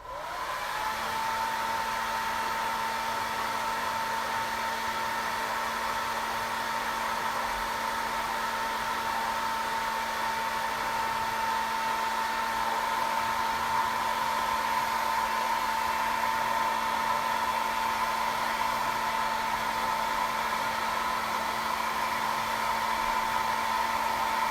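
A hair dryer blasts steadily at close range to dry a craft project, a continuous loud whooshing roar with a constant motor whine that holds unchanged for the full length, with no talking over it.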